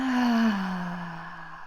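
A single long, deep exhale in a guided energy session, voiced and sighing, sliding slowly downward in pitch as it fades, close and quiet with no other sound.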